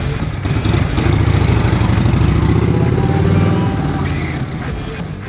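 Harley-Davidson FLHT motorcycle engine running after a repair, a loud close steady rumble with a rhythmic low pulsing throb that swells slightly and then eases off, with no talk.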